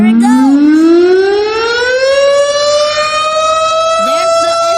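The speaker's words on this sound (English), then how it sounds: "There's the STH-10 siren." An STH-10 civil defense siren sounds during a test, its loud, close wail rising steadily in pitch and holding strong, rich with overtones, with a voice briefly speaking over it.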